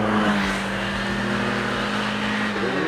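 A 1994 Toyota SW20 MR2 GT-S Turbo engine hums steadily from inside the car, a sustained mid-pitched drone with a slight rise and dip in revs and road noise underneath.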